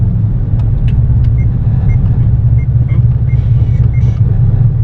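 A steady low engine rumble from inside a moving car, smooth and continuous, with faint light clicks over the drone.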